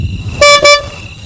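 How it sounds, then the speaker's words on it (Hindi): Two short car horn honks sound close and loud, the second following right after the first. "Just blow the horn."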